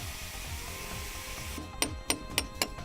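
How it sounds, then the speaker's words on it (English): A chase cutter cuts grooves into AAC (autoclaved aerated concrete) blocks, giving four sharp, evenly spaced impacts over the final second after a steady broadband whir. "A chase cutter can easily cut grooves as required."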